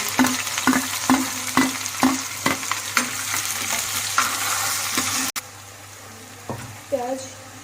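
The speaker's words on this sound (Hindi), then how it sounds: "प्याज ब्राउन हो रही है" Onions browning with cumin and garlic in a pan for aloo matar curry, a steady close sizzle broken by regular stirring scrapes, then a sudden drop to quieter frying near the end with a brief tap-like rattle.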